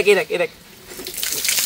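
Water gushes in a steady broadband rush from a garden hose pipe at a backyard pool party. It starts after a few quick spoken words and runs fairly loud to the end.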